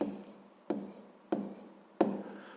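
Pen or pencil writing on paper while working a sixth-grade maths exercise, with short faint scratching strokes broken by four sharp taps as the tip lands, close and quiet, alone without talk.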